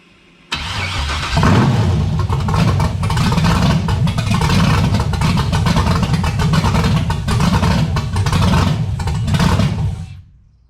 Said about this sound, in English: go ahead and turn the key and let the pump do its thing, and then let's go ahead and fire it